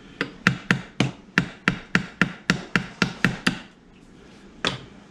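A small hammer taps a pin into a wooden blaster build: about fourteen sharp, close, evenly spaced knocks in a quick steady rhythm, then a short pause and one last tap.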